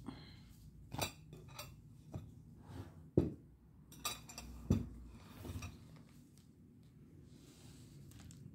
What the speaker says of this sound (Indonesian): piring sama sendok